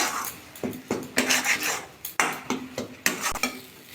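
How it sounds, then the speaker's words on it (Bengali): Green pea dough mixture for kochuri filling stirred in a wok, with repeated scraping strokes and sharp metal clinks of the spatula against the pan in an uneven rhythm, close and loud over a faint sizzle, with no talk. "অনবরত কিন্তু নাড়াচাড়া করছি"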